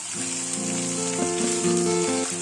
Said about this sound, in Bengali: 3 থেকে 4টে ব্যাচে মাছগুলোকে ভেজে তুলে নিতে হবে